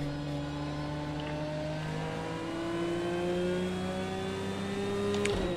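A race car in the video game Project Cars 2 pulls steadily up through the revs. The engine's harmonic whine rises smoothly over a constant rumble of tire and road noise, then ends in a short sharp knock.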